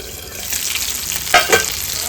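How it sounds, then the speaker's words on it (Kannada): Basa fish slices frying gently in a covered pan, a soft even sizzle with a couple of brief louder spits near the end. "ಮುಚ್ಚಿ ನಿಧಾನವಾಗಿ ಫ್ರೈ ಮಾಡ್ಕೊಳ್ಳೋಣ."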